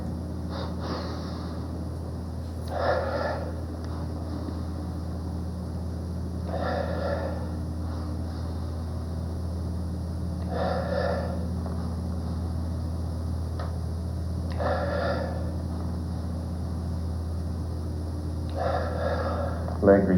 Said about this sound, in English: Double breathing.